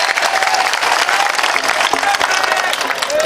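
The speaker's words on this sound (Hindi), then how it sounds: "इतनी कमजोर तालियां मुझे नहीं चाहिए इस बहन पे।" Audience applause fills the air at a mushaira poetry gathering, a dense, steady clatter of many hands clapping with some crowd noise mixed in, continuous throughout.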